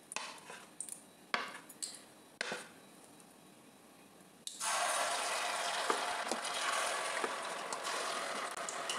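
Malpua batter poured into hot oil in a wok, erupting at once into a loud, steady, broad frying hiss that holds to the end, after a few sharp clinks of utensils against the pan.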